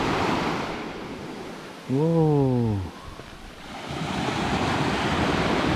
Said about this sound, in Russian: Шум прибоя. Им можно наслаждаться вечно.